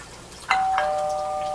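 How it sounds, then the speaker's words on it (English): A phone's text message alert sounds as a short two-note chime, clean and fairly quiet, its second tone ringing on steadily. "you will hear my phone go off when the text message comes through"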